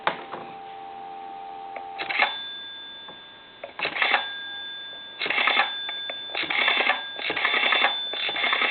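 A Kellogg rotary telephone is dialed while on the workbench for repair, giving a series of mechanical clicking bursts separated by short pauses over a steady background tone.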